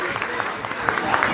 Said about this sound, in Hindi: आप एक मरतबा ज़ोरदार उसके लिए तालियां बजाइए